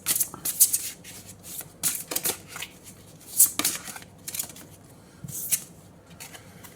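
A deck of oracle cards is shuffled by hand, giving quick riffling and sliding bursts in uneven clusters, close and fairly crisp, with no talk over them.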